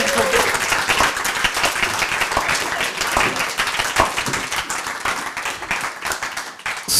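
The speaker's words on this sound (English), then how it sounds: "Let's give them a round of applause," Audience applause fills a capstone event hall, a dense, steady clapping from many hands that runs loud for about seven seconds with scattered voices underneath and a brief dip near the end.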